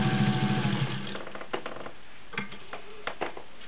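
A vintage Singer 201-2 gear-driven sewing machine stitches through five layers of denim, a fast close mechanical whir that slows and breaks into separate clicks and taps as it changes between forward and reverse.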